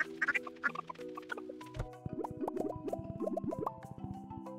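Cartoonish duck quacks from a farming video game, a quick series of short pitched honks clustered in the second half over soft game music, with a few chirpy bird-like notes early on.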